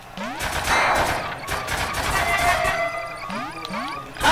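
Rapid bursts of gunfire and laser-like sweeping zaps from a gun in the Duck Game video game, repeated several times over busy game effects, loud and close.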